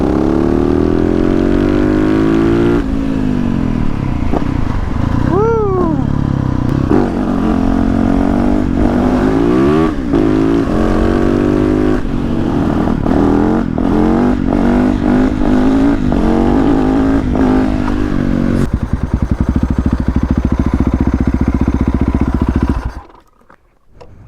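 Yamaha YZ450F supermoto motorcycle engine revving up and down in loud repeated blips over a steady rumble, cutting out abruptly near the end.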